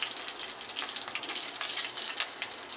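Cumin, mustard seeds and curry leaves sizzle and crackle in about a spoonful of hot oil for dahi bhindi, a steady hiss scattered with pops, with no talk.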